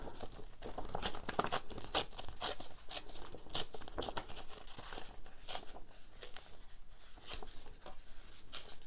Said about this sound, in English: see if I can just tear around the rose a little bit